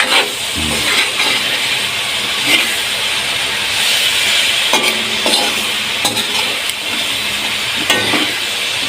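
Pancit canton noodles are stirred and tossed in a hot pan, giving a constant loud sizzle with scraping and clinking of the utensil against the pan.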